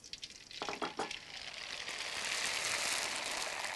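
Tofu pieces frying in very hot oil in a Vietnamese kitchen for honey tofu snacks, a few sharp crackling bursts at first, then a loud, steady, continuous sizzle close by.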